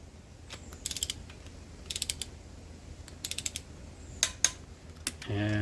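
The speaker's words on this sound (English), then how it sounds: "so just to torque it up, I've got it set at 15 foot-pounds" Torque wrench clicking while tightening bolts set to 15 foot-pounds on the bottom end of an L48 small block Chevy; four sets of quick close ratcheting clicks at steady intervals, followed by a brief metallic clunk at the end.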